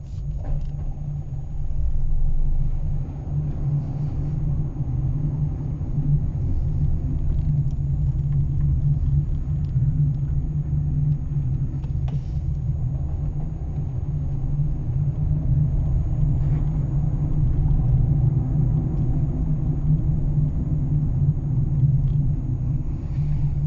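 A car drives along a road toward a beach, a steady low rumble of engine and tyres holding at an even level throughout.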